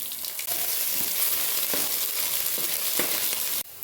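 Mustard seeds, cumin and finely grated ginger fry in hot oil with a loud, steady sizzle and crackle, a few sharper pops and spatters standing out, the frying dropping away abruptly near the end.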